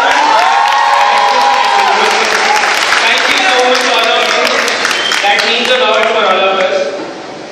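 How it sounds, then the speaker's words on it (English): A large crowd at a student band event applauds and cheers loudly, with whoops and excited voices mixed into the clapping before it starts to fade near the end. "Now I would like to request all of you for a round of applause for each and every student involved in organizing such a grand event."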